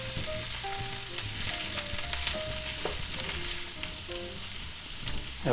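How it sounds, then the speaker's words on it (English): Green peppers sizzling and frying in a pan as they are stirred, a soft, steady sizzle heard alone with a few light scrapes. "Alright, let's put on some of our green peppers."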